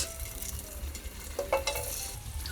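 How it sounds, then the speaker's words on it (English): Garlic sizzles in a little hot oil in a pan as the base for a vegan feijoada, a steady close frying hiss with a few brief stirring scrapes and pops, with no voices. "First step is oil. A little bit, of course. Okay. Then you put a little bit garlic inside."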